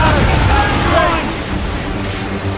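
Naval cannon fire in the video game Assassin's Creed Rogue: heavy, rumbling booms roll continuously beneath a wash of sea and battle noise, with crew voices mixed in.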